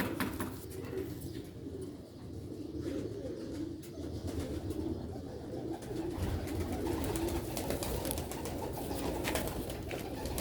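Tiger pigeons in a loft coo softly and repeatedly in low, rolling calls over steady background noise, close by, with no talking.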